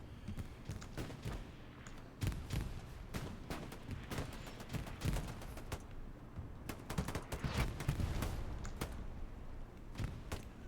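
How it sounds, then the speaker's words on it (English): Bursts of automatic gunfire from a paintball-style first-person shooter match between Helios and MS, heard as repeated sharp volleys and scattered single shots throughout, some close and loud, others farther off, with no talk. "Machine gun back there, it sure is."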